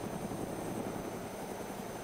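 A Huey helicopter flying in the DayZ game, a steady dense rotor and engine roar throughout, fairly faint and with no talking.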